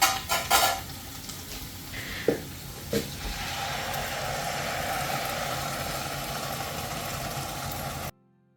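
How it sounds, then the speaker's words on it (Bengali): Tomato, cashew, ginger and garlic paste is tipped into lightly fried onions, starting with a few clatters of pan and spoon before a steady moderate sizzle that runs until an abrupt stop. "পেঁয়াজটা হালকা করে ভেজে তার মধ্যে আদা রসুন টমেটো কাজু পেস্ট করে দিয়ে দিলাম"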